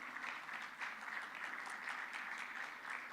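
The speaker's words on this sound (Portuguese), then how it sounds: "Un aplauso grande para también Bruno" Audience at a Brazil–Chile agriculture and sustainability forum applauding Bruno Becerra, COO of Face Lab Chile, as he is invited up, a steady fairly faint crowd clapping with an even rhythm throughout.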